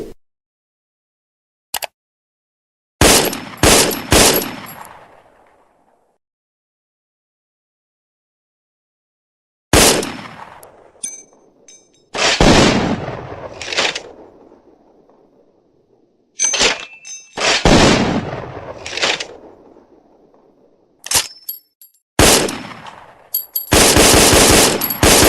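FN FAL automatic rifle firing outdoors in several loud bursts and single shots, separated by silent gaps, each volley ringing with a trailing echo.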